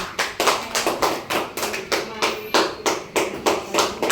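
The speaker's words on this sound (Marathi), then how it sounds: "एकदा टाळ्या वाजवा यांच्यासाठी सर्वांना." A group of people at a word game clapping in a steady rhythm, about ten sharp, even claps in a row, loud and close, with no talk over them.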